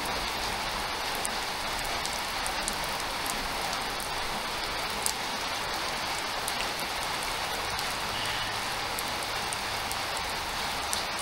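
Steady rain pours down continuously with a dense, even hiss and occasional sharper drips, no voices present.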